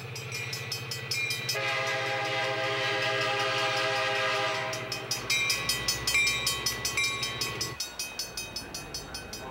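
A railway train passing near a station in Markham, Ontario, with a loud sustained horn blast over rumbling wheels, then a steady rhythmic clickety-clack of cars rolling by that gradually fades, no voices.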